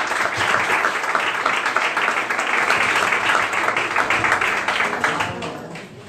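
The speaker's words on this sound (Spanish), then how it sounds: "Gustaríame que desedes un forte aplauso." An audience applauds loudly and steadily at a film festival Q&A, dense clapping filling the room for several seconds before tapering off at the end.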